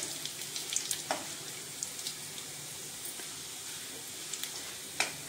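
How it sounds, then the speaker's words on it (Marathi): Chopped garlic fries in a pan as a quiet, steady sizzle with scattered small pops and crackles. "बारीक केलेला लसूण, हे चांगले लाल होईपर्यंत आपण भाजून घेऊया"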